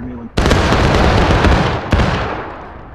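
A musket volley fired on command in the War of Rights Civil War game: one loud, sudden combined blast that rolls and decays over two seconds, with a second sharp crack partway through and a voice just before.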